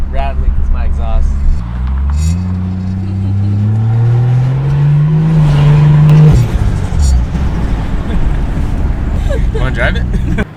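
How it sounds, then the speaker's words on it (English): Toyota Supra with a rattly exhaust driving, engine note climbing through rising revs before easing off, loud and close, with people talking over it. "This is a little rattly because my exhaust."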